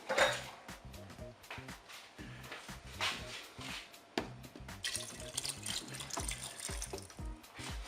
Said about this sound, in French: Et maintenant je vais recouvrir d'eau.